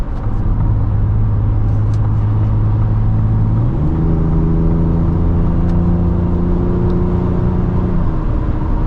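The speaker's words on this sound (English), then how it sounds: "And this V6 sounds great." Cabin engine hum from a 2024 Ford Ranger Raptor V6 while driving, steady and loud with a smooth rise in pitch partway through as the truck speeds up, then easing back near the end.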